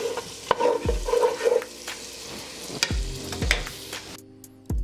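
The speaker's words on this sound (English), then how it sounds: "You just wanna keep it moving around. You wanna get it in here." Garlic and onion fry in grease in a pan and are stirred around, steady sizzling broken by several sharp scraping knocks of the utensil against the pan, with no talking.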